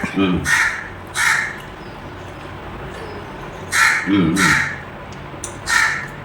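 Crows caw loudly nearby, several harsh calls in pairs with quiet gaps between them, at a village Mariamman temple Pongal offering.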